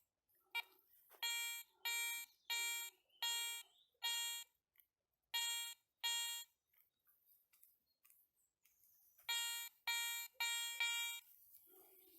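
Garrett 400i metal detector sweeping over a coin buried 20 cm deep in soil, giving a series of sharp, loud, evenly spaced electronic beeps in two bursts separated by a quiet gap, with no voices.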